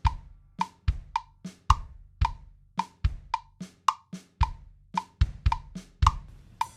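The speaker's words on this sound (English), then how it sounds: "That clicking sound you hear is a metronome" A GarageBand metronome clicks steadily, each crisp, sharp tick carrying a short ringing tone, repeating about twice per second over a faint low thump, with no voices.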